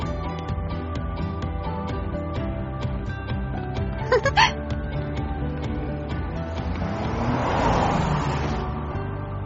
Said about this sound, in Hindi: ये कारें आ जा रही हैं